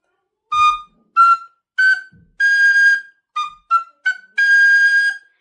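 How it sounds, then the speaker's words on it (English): Tin whistle notes sound in short, separately tongued bursts with clear gaps between them, eight detached notes, some held a little longer. "So if I played that with by tonning each note in between, it would sound like this."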